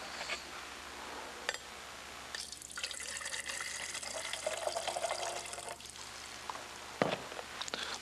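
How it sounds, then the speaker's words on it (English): Hot water runs steadily into a can marked with colored tape for an infrared thermography demonstration, a continuous close pouring and splashing lasting several seconds with a slight clink near the end. "The first can will fill with hot water."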